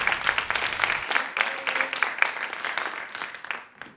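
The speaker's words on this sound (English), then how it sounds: "Give a big round of applause to Avi." Town hall crowd in London, Ontario applauding Avi Lewis as he comes up, a dense continuous burst of clapping with a few cheers that fades out toward the end.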